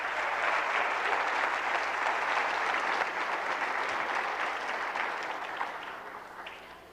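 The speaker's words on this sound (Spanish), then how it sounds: "Denle un aplauso a ese Dios santo." A church congregation claps in praise of God, sustained full-room applause that holds steady for several seconds, then gradually thins and fades near the end.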